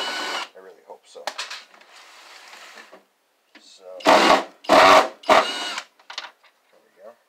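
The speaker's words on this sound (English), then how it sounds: "Can I drill all of these out?" Power drill boring out screws from a CRT monitor, model D828L, during retro scrapping: three loud whirring bursts in the middle, with quieter machine buzz earlier and someone talking briefly at the start.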